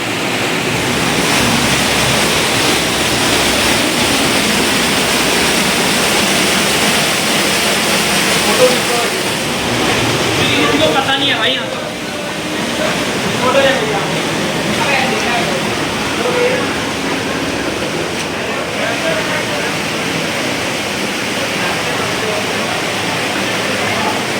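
A waterfall inside Robbers Cave at Gucchupani, Uttarakhand, gives a loud, continuous, hissing roar that fills the whole stretch, with people talking faintly beneath it.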